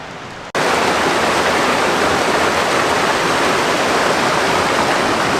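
A small river flows steadily beside a hiking trail near a little footbridge on the way to Pamelia Lake, producing a loud, continuous rushing wash that begins abruptly after a brief quiet moment and holds constant throughout.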